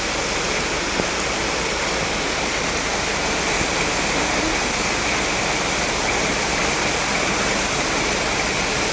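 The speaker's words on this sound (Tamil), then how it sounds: "ஸோ பெய்கிற இந்த கனமழைக்கு இப்போவே எல்லா வாட்டர் ஃபால்லையும் தண்ணிலாம் வர ஆரம்பிச்சிருச்சு." Waterfall running full after heavy rain in the hills, a steady, loud broadband roar of rushing, splashing water that holds unbroken from start to finish with no voices.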